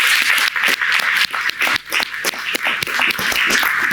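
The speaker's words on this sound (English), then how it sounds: "please join me in a big round of applause to thank our panellists" A conference audience claps in dense, uneven applause for panellists, loud and continuous for a few seconds with individual claps standing out near the front.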